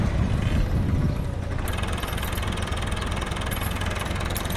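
A farm tractor's engine, just started on a dairy property, runs at a steady, rough idle with a constant low rumble and mechanical clatter, loud and close with no talking.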